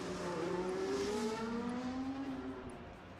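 V8 Formula 1 race car engines in the F1 2013 video game, a high, steady whine that rises and falls in pitch as cars pass, heard alone with no talking.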